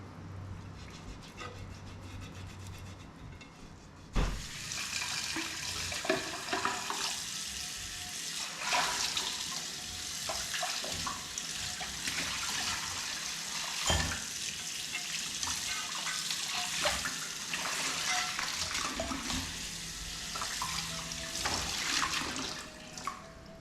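Tap water splashes over an iron dosa pan being rinsed after a scrub with kudampuli tamarind, beginning abruptly and running steadily with intermittent clatter and spatter close by.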